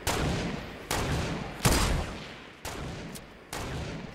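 Sniper gunfire in the video game Fortnite during a sniper duel mode: five sharp shots spaced roughly a second apart, each a loud broadband crack trailing off into a fading echo.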